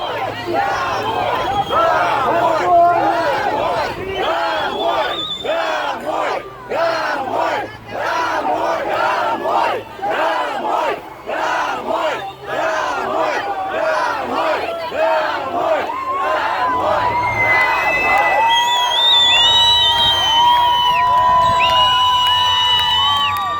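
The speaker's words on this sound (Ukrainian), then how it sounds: "люди натовпом просто змушують російську автівку розвернутись" A large crowd in occupied Kherson shouting together in loud, rhythmic chants to force a Russian car to turn around, voices massed and close throughout, with higher cries and whistles rising toward the end.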